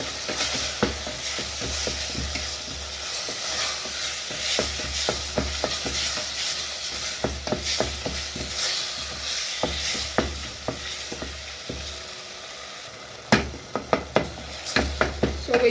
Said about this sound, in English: Mix that well.